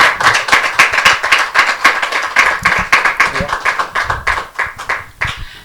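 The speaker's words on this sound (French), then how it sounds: "Merci public pour l'applaudissement" An audience applauding after a music artist's performance, a loud, uneven run of sharp individual claps close by that thins out toward the end, with some voices mixed in.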